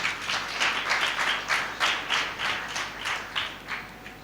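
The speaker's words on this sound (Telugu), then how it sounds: "క్లాప్స్ కొట్టి గట్టిగా." A church congregation at a Sunday service claps loudly in unison, with strong rhythmic beats repeating at a steady pace, many hands close together.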